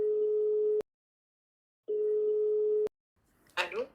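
A telephone ringback tone on an outgoing call sounds twice as long, steady electronic buzzes separated by a pause, followed by a brief voice at the end.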